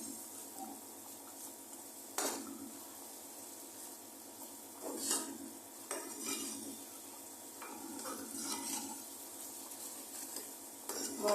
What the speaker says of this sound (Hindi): ब्राउन प्याज को भी हम मसाले में अच्छी तरह भून लेंगे।